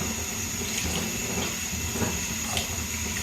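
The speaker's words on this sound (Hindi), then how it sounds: "ये मैंने 2 गिलास जो पानी लिया है वो भी ऐड कर दिया है।" Water poured steadily into a pan of soaked dried plums for chutney, a continuous close splashing and trickling with no voices over it.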